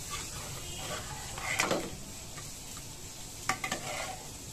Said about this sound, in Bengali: এবার প্রেসার কুকারের ডালে আমি ঢেলে দেব। ভালো করে নেড়েচেড়ে মিশিয়ে দেব।